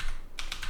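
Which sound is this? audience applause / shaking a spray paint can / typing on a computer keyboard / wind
typing on a computer keyboard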